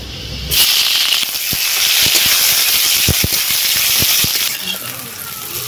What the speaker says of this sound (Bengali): এবারে দিয়ে দিচ্ছি পেঁয়াজ কুচি